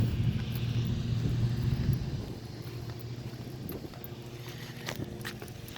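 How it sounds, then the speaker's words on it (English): A street cleaner vehicle drives past on a quiet street, a loud low engine rumble and droning hum that is strongest early and then settles into a steadier, slightly quieter mechanical drone with occasional clanks. "it's a street cleaner. I'm like, what the hell's that noise?"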